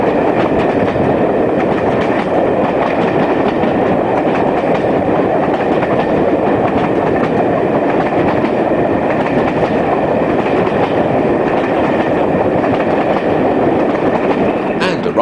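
British Rail Class 50 diesel locomotive on a farewell railtour, a loud, steady rumble of engine and rolling wheels with rhythmic rail clatter throughout.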